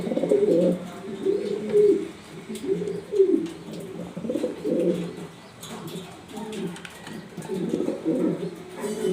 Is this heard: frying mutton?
no